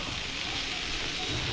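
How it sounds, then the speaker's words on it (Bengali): Mung dal with winter vegetables frying in a pan while a spoon stirs it, giving a steady, low, continuous sizzle with soft crackle and no distinct strokes. "ডালগুলো যে দিয়ে দিলাম তারপরে একটু নেড়ে নিতে হবে, চামচিতে ধরে নেড়ে দিচ্ছি"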